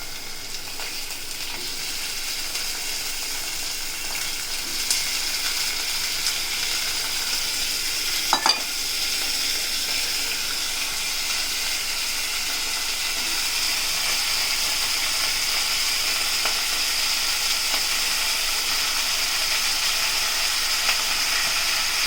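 Potatoes frying in hot oil with mustard seeds and hing for a traditional Andhra brinjal and potato curry, a steady close sizzle and hiss that runs continuously, with a few brief stirring clinks partway through.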